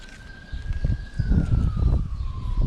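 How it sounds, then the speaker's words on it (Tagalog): An ambulance siren wails on a nearby road, one long steady tone that drifts slowly lower as it passes. It is moderately distant and sits under louder low rumbling and handling noise close by. "May ambulansya dumaan sa kabilang kasada"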